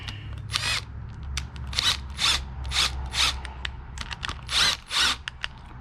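Power tool tightening the clutch spring bolts on a Honda CB360 motorcycle engine, with a series of short whirring bursts and ratcheting clicks, close and loud, repeated about ten times with brief pauses between.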